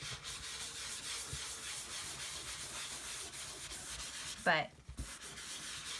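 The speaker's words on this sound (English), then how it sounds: "I do the wax on, wax off." Steady rubbing scrape of wax being worked aggressively into a waxed canvas cover, continuous close friction with a brief louder squeak near the end and a single word spoken.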